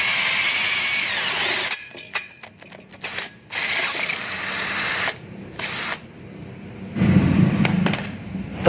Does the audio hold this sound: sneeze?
no